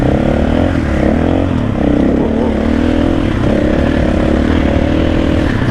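A 2024 KTM 500 EXC-F enduro motorcycle ridden on an enduro trail, its engine droning steadily at close range for the whole stretch with small shifts in throttle and no talk over it.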